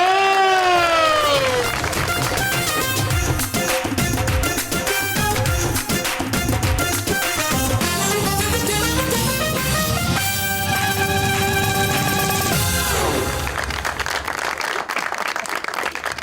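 A television studio audience claps and cheers to welcome guests Barrister Ehtesham and Maira Khan on the SAMAA TV show Super Over, beneath a loud, busy burst of theme music that fades away near the end.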